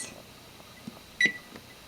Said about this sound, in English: Next, you want to set your timer for 8 minutes.